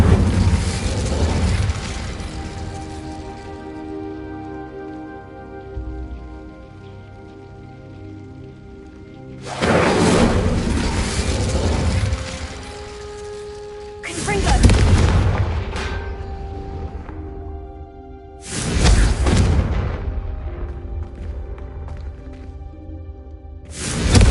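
Incendio fire spells cast in the Hogwarts Legacy video game: four loud whooshing bursts spaced several seconds apart, each fading into a crackling, rain-like hiss over a humming tonal background.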